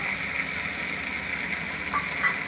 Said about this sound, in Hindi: अच्छे से फ्राई कर देंगे। चिली सॉस डालेंगे